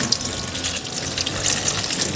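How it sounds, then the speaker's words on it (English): Water pours steadily from a jug onto shrub cuttings on a covered porch, a continuous close splashing wash lasting a couple of seconds with no talk. "I'm just going to wet it all down."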